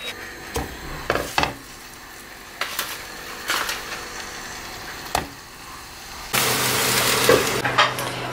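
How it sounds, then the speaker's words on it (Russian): Beef burger patties frying in olive oil in a pan: a few scattered knocks and clatters, then a loud, steady sizzle that begins abruptly and continues to the end. "Буду сейчас жарить на оливковом масле."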